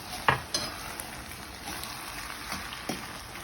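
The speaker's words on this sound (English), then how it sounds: "I'm adding some hot coconut milk to it." Hot coconut milk poured into saltfish cooking in a pan for a Jamaican fried breadfruit and saltfish meal gives a soft, quiet sizzle, broken by a few light spoon or pan clicks.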